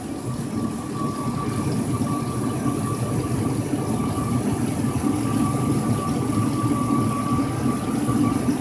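A car engine idles steadily at warm operating temperature while air is bled from its cooling system, a continuous low rumble with a faint steady whine, close and unbroken throughout.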